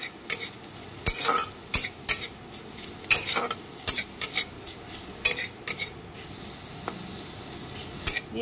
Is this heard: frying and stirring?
yes